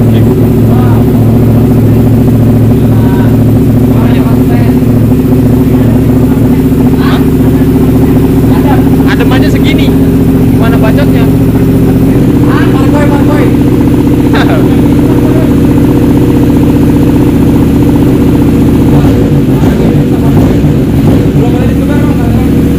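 A big motorcycle engine roars loudly and continuously through a sound check with revving in a showroom of large bikes in Bali, with people talking over it.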